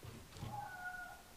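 A cat in the video game TSIOQUE gives a single short, faint meow.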